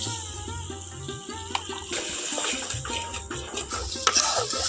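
Water is poured into spicy jackfruit curry (echor kosha) cooking in a pan and stirred in. Close sloshing, scraping and soft sizzling carry on steadily.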